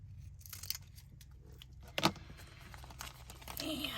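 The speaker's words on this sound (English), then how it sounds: "Cut this in half." A tiny paper-craft embellishment, a small dot-like piece, is cut in half at a crafting table: quiet rustling and crinkling handling noises, one sharp close snip partway through, then more soft crinkles, with no talking.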